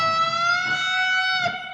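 A single sustained electric guitar note rings clearly as the string is bent, its pitch drifting slightly as it rises toward the target, with a faint pick-like blip near the end.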